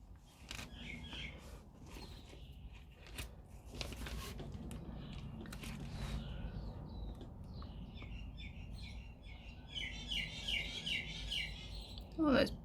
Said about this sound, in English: those birds are having fun out there